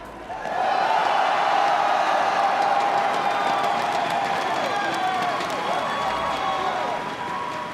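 A large crowd at the Clash Royale League World Finals 2025 esports event roars with sustained applause and cheering, a loud continuous wash of clapping and shouting that holds steady for several seconds.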